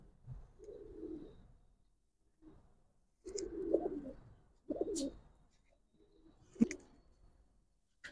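A Chuithal Kaldam pigeon pair coos close by in several soft, separate bursts with quiet gaps between them, plus a few sharper clicks and rustles.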